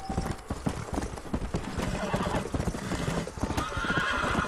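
Horse hooves clip-clop steadily at a quick gait in Red Dead Redemption, loud and close, with a brief whinny and game ambience layered around the footfalls.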